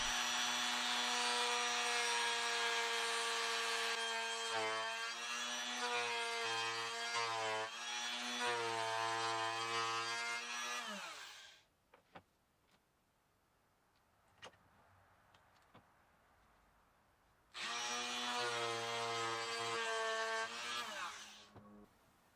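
A router fitted with a round-over bit shapes the edge of a wooden guitar neck, whining loudly in two long passes separated by a few seconds of near silence with faint clicks.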